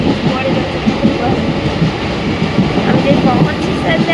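A local train runs steadily in Odisha, a dense continuous rumble with faint rhythmic rail clatter filling the whole stretch and no clear breaks.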